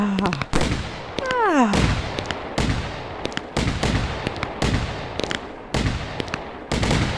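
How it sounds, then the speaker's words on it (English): New Year's Eve fireworks go off in a rapid series of loud, sharp bangs and crackles, with a whistling rocket rising near the start. "A nice, sensible New Year's Eve firework display."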